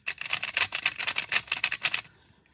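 An eight-year-old WR Rubik's cube turns with a rapid, dry clicking rattle, a close burst of crisp clacks lasting about two seconds before stopping.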